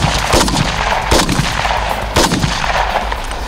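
Bursts of gunfire from a special forces assault rifle during a live-fire training drill, loud sharp shots at a steady pace with echoing tails over constant background noise.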